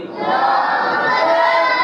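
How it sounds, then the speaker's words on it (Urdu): A crowd at a religious gathering in a mosque shouting a slogan in unison, one loud, sustained chorus of many voices. "حضرت کا استقبال نعروں سے کریں"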